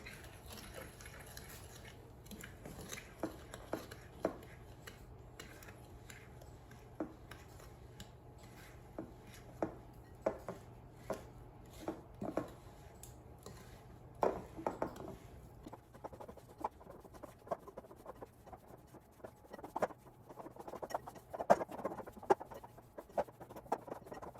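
Cookie dough for dairy-free chocolate chip cookies being mixed in a bowl, faint irregular scraping and tapping of a utensil, quiet and close with no talk.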